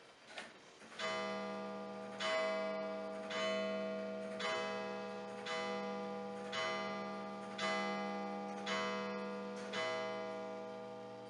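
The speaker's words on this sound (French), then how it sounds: "l'horloge qui sonne" A clock chimes the hour indoors, a series of about eight evenly spaced resonant strikes, each ringing with a long decaying tone, fairly loud and alone with no voices.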